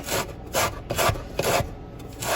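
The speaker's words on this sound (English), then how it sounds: "Now he's going to zest" An orange is zested on a grater in a home kitchen, four or five quick rasping strokes in a steady rhythm, close and fairly quiet with no talk.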